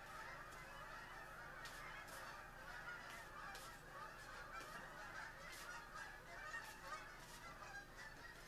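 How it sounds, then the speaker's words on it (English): A flock of geese honks repeatedly overhead, calls overlapping in a steady chorus at moderate distance, with no talking. "There's a whole bunch of geese flying overhead."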